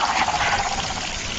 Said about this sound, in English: the room starts to fill with water.